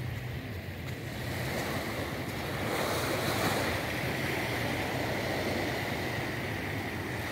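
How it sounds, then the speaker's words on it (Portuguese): Surf at Caraí beach in Niterói, a continuous wash of breaking waves mixed with wind buffeting the microphone, steady and moderately loud with a slight swell midway, no voices. "Estamos aqui na praia de Caraí, gente."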